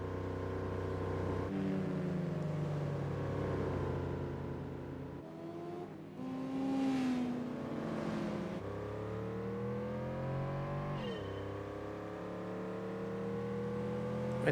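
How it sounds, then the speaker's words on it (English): Mercedes and BMW racing cars in Gran Turismo 4 cruise down a freeway, their engines humming steadily with rising and falling revs and gear shifts, an unbroken motor drone with no talking. "it's a Mercedes and a BMW going down the freeway"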